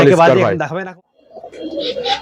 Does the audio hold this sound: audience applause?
no